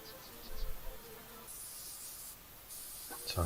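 Compressed air hisses as it blows dirt out of a bearing from a 7-inch Rockwell bench grinder, making a steady airy rush with a faint whirring from the spinning bearing, close by and with no talking.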